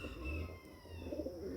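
Pigeons coo softly in a yard, with low, rounded calls over a faint outdoor background.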